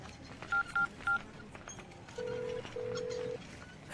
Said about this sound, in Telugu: ఒక ఫోన్ చేసుకోవాలన్నా